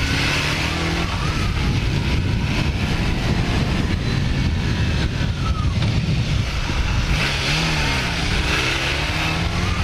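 A 1980 Kawasaki LTD440 motorcycle being ridden, its engine droning loud and close with rising and falling revs as it shifts through gears, with steady wind rush over the whole ride.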